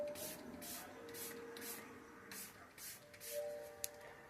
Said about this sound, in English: I'm going to use the Hard Candy Look On Lock Setting Spray all day, every day.